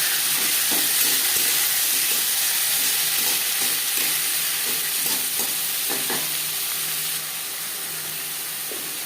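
Bay leaf pieces and panch phoron fry in hot oil in a kadai, a steady bright sizzle and hiss with occasional soft stirring clicks, close and even, no voices.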